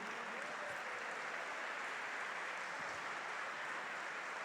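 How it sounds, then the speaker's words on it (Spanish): Sustained applause from a church congregation welcoming the youth forward, a dense, steady wash of many hands clapping at an even, moderate distance with no voices on top. "Demos un aplauso, iglesia, a toda la juventud."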